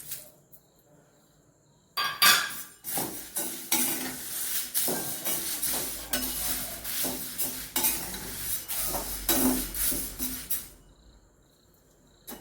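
Sesame seeds stirred in a hot pan, a quiet opening giving way to a dense, continuous crackle and scraping of the spoon against the metal, close and steady for about nine seconds before falling quiet again.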